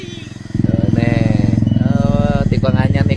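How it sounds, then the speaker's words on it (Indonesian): Motorcycle with a loud open aftermarket exhaust on a winding mountain road in Cianjur, a deep, steady rumbling drone that swells after half a second and holds close and strong throughout, with a faint voice underneath. "Knalpot brong ini merusak suasana."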